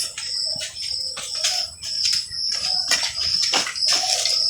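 Hands being washed with water outdoors in a village: close splashing and trickling in uneven bursts, with high chirping in the background.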